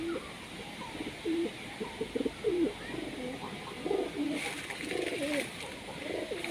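Pet pigeons cooing in a rooftop loft, a series of soft, low, throaty coos repeating in short phrases close by, with faint background noise.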